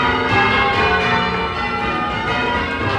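Church bells rung by pulling ropes in southern England, a dense, continuous wash of overlapping ringing tones sounding steadily throughout at moderate loudness with no voices.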